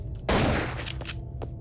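Gunfire from a player's weapon in a video game, one loud close burst followed by a couple of fainter sharp reports over a steady background drone.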